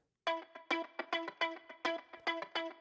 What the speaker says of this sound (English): there's another guitar that's actually a sample.